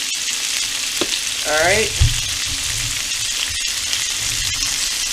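Shrimp dropped into a hot pan with garlic powder, sizzling and frying loudly and continuously, with a brief clatter as they go in and a short spoken word over the hiss.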